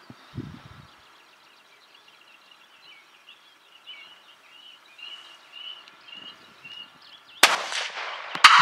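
A single loud rifle shot cracks out near the end during a stalking hunt for a six-point deer, after a quiet stretch of soft birdsong and faint rustling outdoors.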